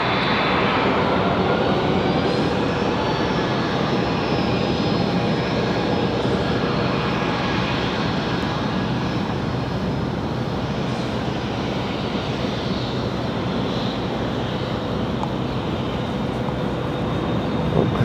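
A passenger airplane's engines roar loud and steady at Raleigh Durham airport, a continuous broad jet rumble with high whine holding for the whole stretch, no voices.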